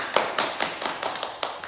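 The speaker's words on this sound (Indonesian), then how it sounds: "Beri tepuk tangan." Students in a classroom give a short burst of applause, with about eight evenly spaced sharp claps standing out over a softer patter of hands, fairly close and fading quickly.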